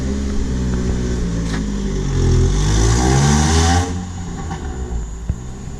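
A Nissan Sentra SE-R Spec-V engine with new headers idles with a raspy rumble, then revs up loudly for a couple of seconds before dropping back to a throaty idle.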